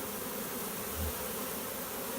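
A swarm of bees buzzes steadily and densely outdoors near a log and the surrounding bush, a continuous close hum with no pauses and no voices.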